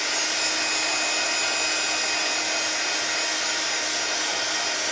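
A heat tool blows steadily to dry a handmade card during cardmaking, a constant even whir with a fan hiss, close and unbroken throughout.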